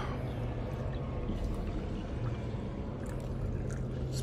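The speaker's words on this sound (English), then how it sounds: "Just pouring my tea." Tea poured from a pot into a cup: a steady, even trickle of liquid that runs for several seconds over a low background hum, with no voices.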